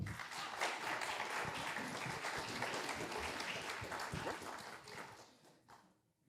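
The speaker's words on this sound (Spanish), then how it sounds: "Un aplauso" Audience applause at a book presentation event, a dense sustained crowd clapping at steady volume for several seconds before fading out near the end, with no voices over it.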